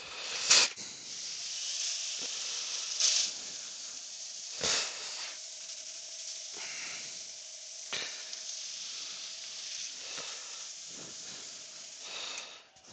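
Walnut bowl spinning on a lathe and burnished with a handful of its own wood shavings, giving a steady close hiss and rustle with a few brief louder scrapes.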